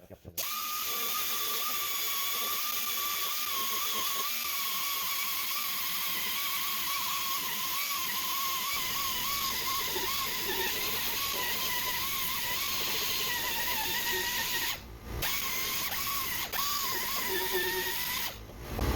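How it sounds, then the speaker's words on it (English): Power sander stripping old paint from sheet metal on a 1974 Chevy K5 Blazer door striker area, running steadily and loudly for the whole stretch with brief dips near the end, no talk. "aim not to remove any more material of the sheet metal than you have to get it sanded"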